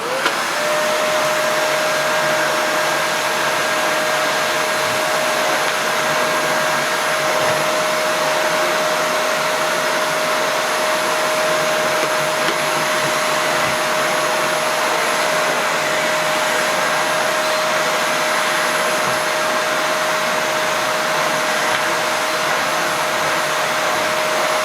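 A Hoover Xarion Green Ray vacuum cleaner runs on a rug, giving a steady, close, continuous whine with a high tonal hum that holds unbroken for the whole stretch, with no talking.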